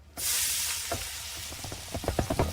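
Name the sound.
onions sizzling in olive oil and butter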